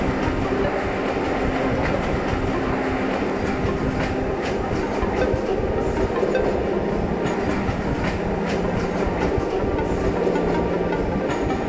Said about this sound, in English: From there we caught the Jacobite steam train to the port of Malig, situated on the northwest coast.